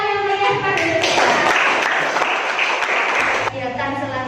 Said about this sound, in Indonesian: Oke, beri tepuk tangan yang meriah pada Yustina.